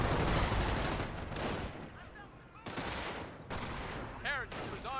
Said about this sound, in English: 30 cal firing away.